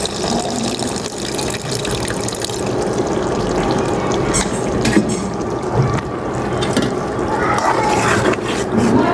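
Broth poured into prawn curry in a pan, a loud steady rush of liquid and hissing bubbling that swells slightly toward the end, with faint clicks underneath.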